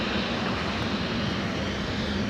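A Condor airliner arriving at LAX, a steady, loud engine roar and rumble filling the whole moment without pause, no talk.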